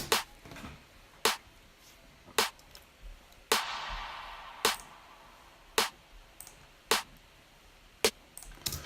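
Drum loop with a compressor at a 3.8 attack setting: evenly spaced punchy hits with crisp transients and a brief noisy wash in the middle, steady rhythm, no talking.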